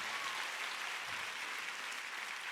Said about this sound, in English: let's have a round of applause for these girls.